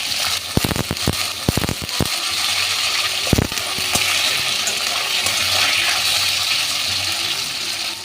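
Bay leaf, white cumin and long-cut potato pieces crackle in hot oil, with a cluster of sharp spattering pops early on and then a steady, loud, close sizzle. Stirring scrapes sound through it, and no one speaks.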